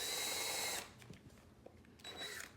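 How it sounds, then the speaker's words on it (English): A cordless drill bores a screw hole during home renovation work, its motor whining loud and close for under a second, then falling quiet before a second, shorter burst of drilling near the end. "I'm drilling the hole down, and then on the angle"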